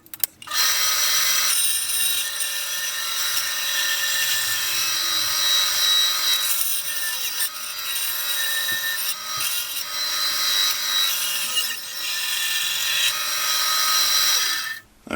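Power saw cutting wood to shape a back scratcher, a steady high whining buzz held for several seconds at a time with brief dips between passes, loud and close with no talking.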